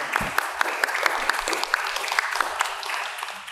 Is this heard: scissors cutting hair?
no